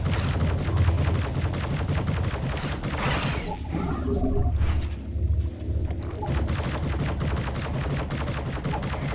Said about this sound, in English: Why is it that enemies can shoot 20 times in a row?